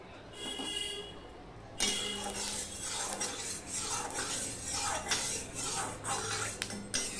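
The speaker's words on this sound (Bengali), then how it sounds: "তেলটা কড়াইয়ের চারিদিকে লাগিয়ে দিলাম।" Mustard oil swirled around a smoking-hot kadai, with a sudden onset of sizzling and repeated metallic scraping and clinking of a utensil against the wok, close and fairly loud.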